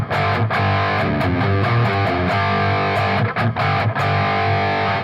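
Distorted electric guitar plays the intro riff of a song within a full band recording, loud and dense with drums, heard alone without talk.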